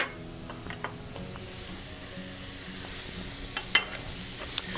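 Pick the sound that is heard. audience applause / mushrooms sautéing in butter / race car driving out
mushrooms sautéing in butter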